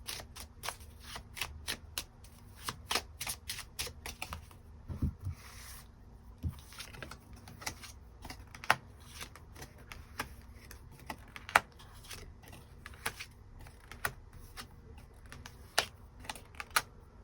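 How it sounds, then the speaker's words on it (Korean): Tarot cards being drawn and shuffled, a steady run of crisp riffling flicks and soft slaps that repeat close and clear, with no talking over them. "추가 카드 뽑아보도록 하겠습니다"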